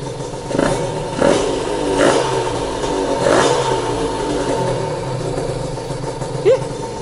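Close-up restored Honda NSR two-stroke motorcycle engine idling with several quick revs in a row, each rising and falling, then a steady idle with a final short blip.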